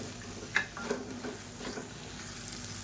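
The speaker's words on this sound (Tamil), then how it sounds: "இப்போ இதையும் சேர்த்து நல்லா வதக்கிக்கலாம்." Grated coconut sautéed and stirred in a pan while cooking egg thokku, giving a soft, steady sizzle with a few scraping stir sounds early on, close by and without speech.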